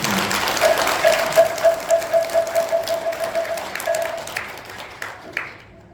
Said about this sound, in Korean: 박강수님께 다시 한번 뜨거운 박수를 부탁드립니다